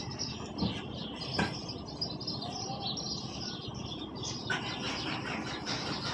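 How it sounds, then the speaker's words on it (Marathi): Busy chirping of house sparrows fills the morning air, many small birds calling at once in a steady outdoor chorus with no talking. "तुम्ही चिमण्यांचा आवाज ऐकू शकता"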